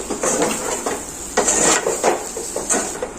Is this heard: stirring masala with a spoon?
yes